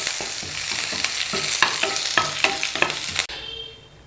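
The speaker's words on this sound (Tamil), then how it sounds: "அடுத்ததாக நம்ம வந்து கருவேப்பிலையை போட்டு நல்லா வறுத்து எடுத்துக்க போகிறோம்." Curry leaves sputter and crackle as they fry in sesame oil for an idli podi, a steady close sizzle with stirring scrapes that thins out and quiets at the end.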